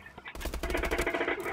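A Vulcan gun in Call of Duty: Advanced Warfare fires a fast, loud continuous stream of shots, starting after a couple of brief pops and holding a steady rattling rhythm until the end.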